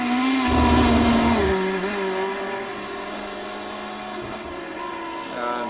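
GT3 race cars, a Lamborghini and a BMW, roar through downhill sweeps at Road Atlanta in a racing video game, one loud engine note climbing then dropping as it shifts, with a second car's tone behind it, no talk.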